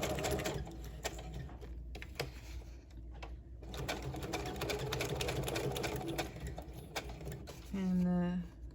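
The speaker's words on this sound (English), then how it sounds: "I'm going to do a straight stitch first, and then I'm going to do a little zigzag in the middle" Sewing machine stitching straight and zigzag stitches on fabric in a craft tag project, a rapid mechanical whir in short bursts with pauses, under a person talking throughout.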